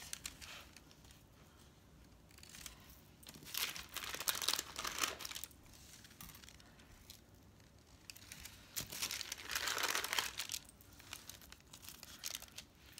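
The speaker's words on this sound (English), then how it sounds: "Okay, so let's see if I can peel these off." Baked cheese taco shells being peeled off a surface, giving close, soft bursts of crinkly, tearing crackle in two main stretches separated by quieter pauses.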